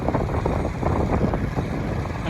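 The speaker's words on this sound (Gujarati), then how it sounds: "બાઇક આપી દીધી છે આપણે વિજયભાઈને" A motorbike engine drones while wind buffets the microphone during a ride near Bardoli, Surat, a loud, rough, continuous rush with no talking.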